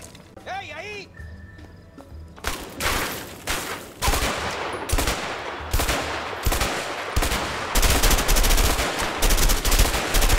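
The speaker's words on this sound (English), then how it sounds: "He's still shooting through the wall." Rapid bursts of gunfire in the video game A Way Out, shots coming through a wall, loud and dense sustained volleys with short gaps, preceded by a brief electronic tone, while players talk over the action.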